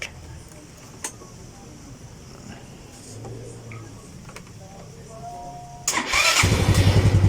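A carbureted Yamaha Mio MX 125 scooter cold-starts after a stretch of quiet background with faint clicks, its engine catching abruptly and settling into a loud, close, steady idling putter.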